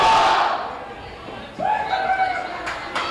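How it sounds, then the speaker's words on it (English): Wrestling crowd at an IHWE indie show roaring and chanting for Major Mark, a loud swell of voices that dips briefly and surges back, with commentators talking over it. "He's got the crowd pumped up."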